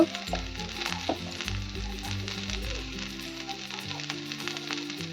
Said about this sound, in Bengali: গ্যাসটা আমি কমিয়েই ভাজবো।